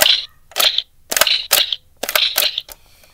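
A toy M1 Garand rifle plays its electronic gunfire effect: a rapid series of loud, crackly bursts, about six shots in an uneven rhythm close to the microphone, with no talking.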